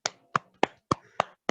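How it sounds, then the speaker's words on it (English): Six sharp, evenly spaced claps from a single pair of hands applaud Pietro at a youth peacebuilding session, crisp and close with clean silence between each. "Applaudissez à Pietro."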